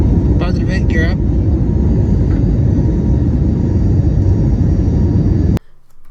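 Airbus A321neo climbing out after departing Seattle's runway 34 right: a loud, steady cabin roar of engine and airflow that holds for over five seconds, with a brief voice early on, then cuts off abruptly.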